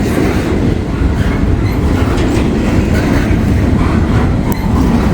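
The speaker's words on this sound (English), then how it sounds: "I don't know if that's the rear of the train or what's coming up here." A B&O freight train of well cars rolls steadily past close by, a loud continuous roar of wheels on rail with rumbling and faint clicking throughout.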